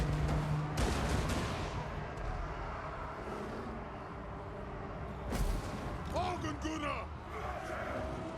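Organ gun and flame cannon fire during a Total War Warhammer 2 battle, heard as a dense, continuous barrage of booming and crackling blasts with sharp bursts near the start and middle, underneath a steady roar of battle noise.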